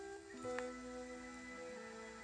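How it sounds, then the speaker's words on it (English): Musical sample lifted from a vinyl record, sustained tonal chords with a brief bright accent near the start, playing steadily at moderate volume with no voices. "So this is the sample that I chose from the record."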